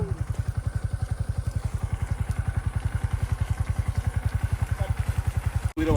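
A motorcycle engine idles steadily close by, a rapid, even thumping putter that runs throughout, cut by a brief click near the end.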